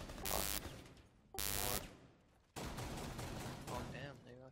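Gunfire in the video game Rainbow Six: two loud bursts of rapid automatic fire, then a longer sustained volley, close and harsh, with someone speaking over it.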